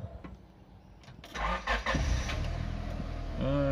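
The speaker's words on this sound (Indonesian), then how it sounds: "Kita coba mesinnya." A used car with about 290,000 km on the clock cranks and catches, its engine then settling into a steady, low idle that carries on to the end.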